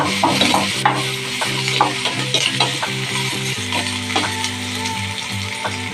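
Curry leaves crackle and sizzle in hot oil for a Telugu dal and tamarind pickle dish, a busy continuous frying hiss with stirring clatter and a steady tonal hum underneath, fairly loud and close, with no talking.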